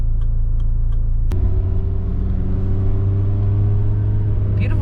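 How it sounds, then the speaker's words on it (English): Honda Civic engine idling, a steady low rumble heard close by, with a click early on and no one talking. "I'm claiming that's a good, healthy idle."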